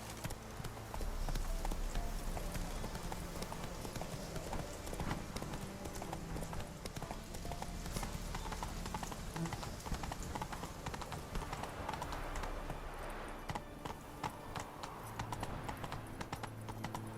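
A horse gallops in The Witcher 3 video game, its hooves pounding in a rapid, steady clip-clop rhythm that runs for the whole stretch over a faint background bed.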